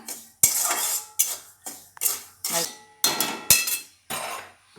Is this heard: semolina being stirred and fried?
yes